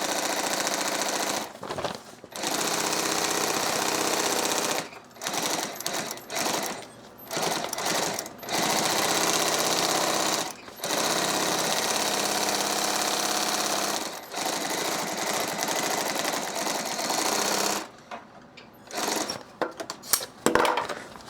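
A sewing machine with a binder attachment stitches binding tape around a backpack's exterior, running in long, loud, steady stretches broken by brief stops and restarts.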